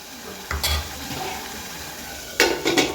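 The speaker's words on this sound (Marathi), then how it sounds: "चांगले फ्राय करायचेत मसाले तेलात" Spices frying in oil for a chicken curry give a soft, steady sizzle, with a couple of short stirring scrapes early on and a few brighter clatters near the end.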